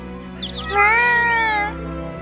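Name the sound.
cat meowing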